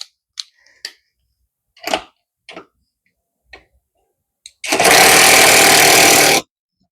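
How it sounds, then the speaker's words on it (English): A Hyper Tough impact wrench removing a nut gives one loud, sustained rattling hammer burst lasting under two seconds, preceded by scattered clicks and light handling taps in an otherwise quiet space. "I got the Hyper Tough impact wrench."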